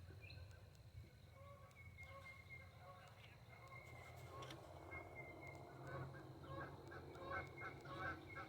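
Geese honk repeatedly at a moderate distance outdoors, their calls growing busier toward the end over a low background rumble.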